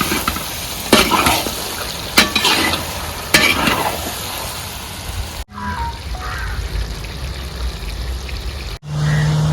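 Pork roast with coconut pieces fries in a pan: a constant close sizzle with several sharp scraping stirs, then the sound cuts abruptly into quieter stretches of frying.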